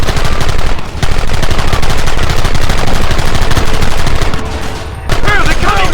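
Gunfire in the Western game Red Dead Redemption: loud, rapid volleys of shots crackle almost nonstop, dipping briefly twice before resuming at full intensity.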